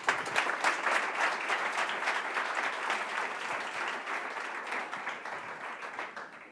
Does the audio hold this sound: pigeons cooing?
no